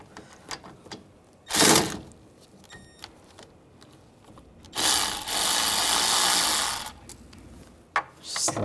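A ratchet fitted with a 13mm socket works loose the AC line fittings on a 2013-2016 Dodge Dart 2.4L, giving a few short bursts of clicking with quiet gaps and a longer run of rapid ratcheting, close and fairly soft.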